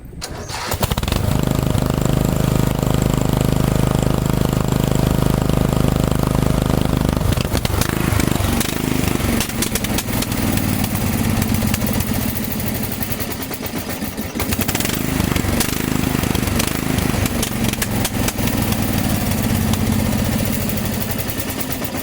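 Lawn tractor engine cranks and catches, then runs loud and close with a rough, droning idle, shifting in tone partway through and settling into a steady chug that continues to the end, with no speech.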